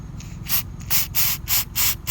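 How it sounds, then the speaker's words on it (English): Aerosol mass airflow sensor cleaner sprayed onto a Corolla's sensor in a series of five short hissing bursts, close up and fairly loud, each lasting about a quarter second with brief pauses between. "they recommend only using mass airflow sensor cleaner"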